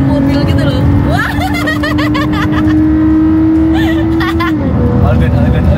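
A car driven fast on a road trip from Jakarta to Surabaya, Indonesia, its engine holding a steady high whine that drops near the end, with people talking and exclaiming excitedly over the loud cabin noise.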